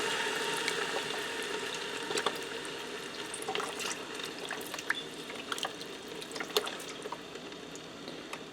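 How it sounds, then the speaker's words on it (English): Beef broth pouring into a pressure cooker over a pot roast, a steady faint liquid trickle and splash with scattered small drips and clinks throughout, no voices. "Now I'm going to add in 2 cups of beef broth."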